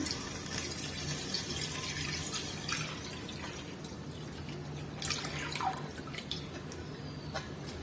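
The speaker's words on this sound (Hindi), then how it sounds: "तो पहले हम 1 लीटर पानी दे देते हैं।" About a litre of water running and splashing into a cooking pot, a steady stream with intermittent drips and bright spatters, no voices.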